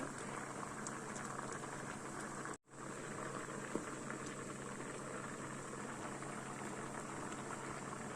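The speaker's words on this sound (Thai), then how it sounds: "ต้มนานมากๆแล้ว" Green beans simmering with sugar in a pot on the stove, a soft, steady bubbling and popping heard up close, with one brief dropout partway through.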